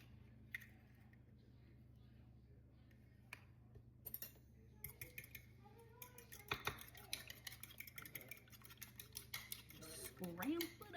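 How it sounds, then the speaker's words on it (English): An egg is cracked and then briskly scrambled for an egg wash in a home kitchen, with quiet taps and clinks at first, then a rapid run of metal utensil strikes against a bowl growing louder toward the end. "Okay, I'm going to crack an egg."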